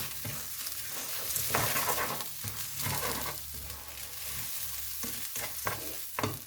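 Seafood risotto with saffron, pepper and salt is stirred in a pan, a steady sizzle under repeated scraping and sloshing strokes, close and continuous with no talking.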